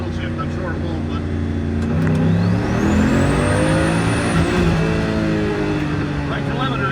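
A car accelerating hard at full throttle in a low gear, its engine note climbing and holding loud and close, with harmonics rising across the seconds before easing off.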